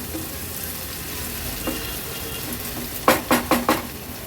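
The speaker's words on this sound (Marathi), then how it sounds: "कांदा आता छान परतून घ्यायचा आहे।" Onion frying in a pan for a vegetarian thali, a steady sizzle followed by four quick clanks of a spatula stirring against the pan.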